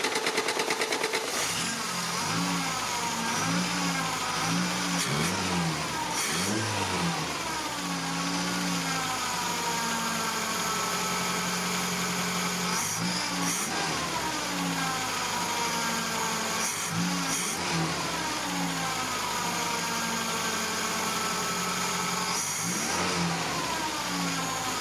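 A Toyota 22R four-cylinder engine that won't idle properly runs steadily up close and is revved repeatedly, with rising and falling pitch sweeps over a constant engine drone and no talking.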